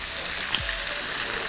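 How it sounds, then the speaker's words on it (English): Streaky bacon frying in a pan, a steady, close hiss of sizzling fat that holds evenly throughout without a break. "The bacon is starting to fry beautifully"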